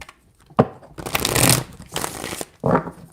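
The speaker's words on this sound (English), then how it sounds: "Three shuffles." Tarot cards being shuffled in three distinct bursts of riffling and sliding, close and crisp, with brief pauses between.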